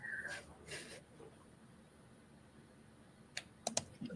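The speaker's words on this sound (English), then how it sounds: "Pardon my typing directly into the microphone." A few scattered keyboard taps and clicks, faint at first, then a short cluster of sharper key presses near the end, close to the microphone.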